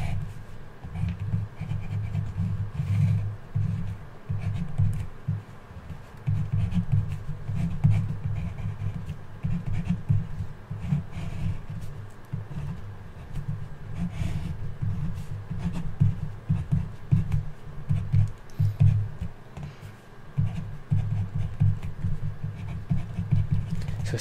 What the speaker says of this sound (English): So now let's draw our circuit again.